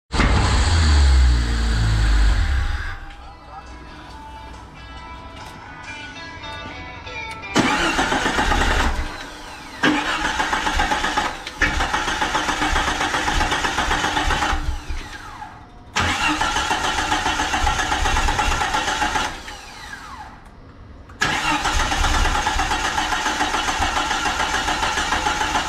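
A 1996 Jeep Cherokee engine is cranked over and over in several bursts, with starter whirring between pauses and the motor catching and running roughly, loud and close in a garage.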